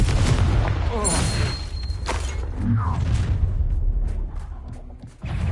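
A Confringo fire spell explodes in the video game Hogwarts Legacy on PS5, a booming blast amid dense combat rumble, with bursts and crackles layered over continuous game noise.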